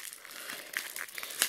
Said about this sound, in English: Packaging is so hard to get open.